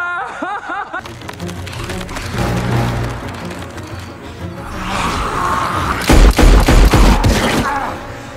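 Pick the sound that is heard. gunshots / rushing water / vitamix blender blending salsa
gunshots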